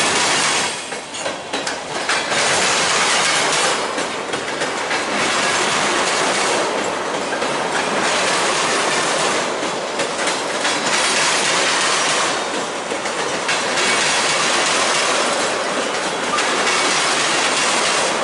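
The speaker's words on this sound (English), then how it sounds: "here comes another train. Alright, YouTube, going, it's an ethanol train" A long ethanol freight train rolls steadily past close by, a loud continuous roar of wheels with rhythmic clattering over rail joints.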